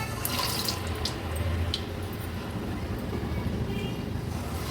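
Jaggery gulgule batter dropped into hot oil in a kadhai, giving a continuous fizzing sizzle with a few sharper crackles near the start.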